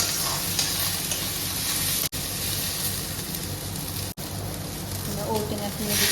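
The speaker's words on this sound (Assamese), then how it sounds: "ঢেকীয়াখিনি অকণমান ভাজি লওঁ" Chopped dhekia fern fronds frying in a pan for an Assamese fish curry with elephant apple give a loud, steady sizzle and crackle, with stirring scrapes and two brief cuts in the sound.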